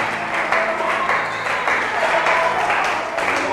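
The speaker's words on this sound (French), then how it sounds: "ajoute encore des acclamations à Dieu" A church congregation at a Sunday prophetic service claps and cheers in praise, a dense, loud, continuous wall of applause from a large crowd.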